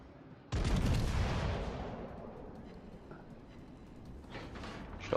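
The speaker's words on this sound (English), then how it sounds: "Shots out on the Vanguard." Naval guns boom in a World of Warships: Legends battle, a sudden loud blast followed by a long rumbling decay and softer distant rumbles toward the end.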